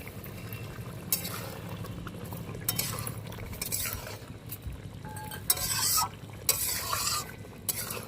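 Cauliflower and potato curry is stirred in a pan after sugar goes in, a steady scraping and soft bubbling sizzle with a few louder spoon knocks near the end, no talk.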